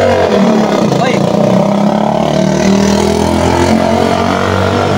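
A tricycle engine revs loud and steady on a Philippine street, a constant throaty motor roar filling the whole stretch with a voice talking over it.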